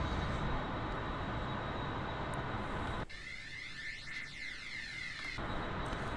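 An F-14A Tomcat jet engine roars in the DCS flight simulator with a steady, dense whine. Midway, a sweeping flyby-like shift in tone rises over the noise before the steady roar returns.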